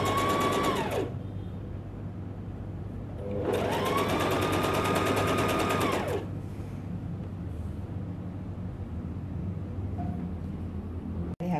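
A sewing machine stitches a seam on children's pajamas in two steady whirring bursts of a few seconds each, separated by a pause filled with low room hum, close and fairly loud with no talking.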